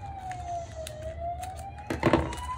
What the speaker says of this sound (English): so sorry about the siren